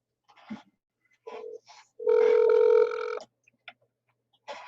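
A telephone rings through the handset while a call is placed to a daughter, a steady tonal ring about a second long, then short clicks and faint noises; nobody speaks.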